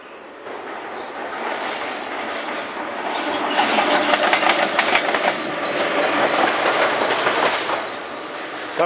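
A train rolls past on a railway line beside an old embankment, a steady, loud rush of wheels and carriages with rhythmic clattering that swells mid-pass and holds close throughout.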